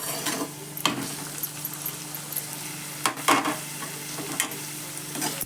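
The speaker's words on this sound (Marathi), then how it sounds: "टॉमॅटो पण चांगला परतू देते त्या कांद्यावर." Tomatoes sautéing over onions in a pan give off a steady low sizzle, with a few sharp scrapes and clinks of a stirring spoon rising above it.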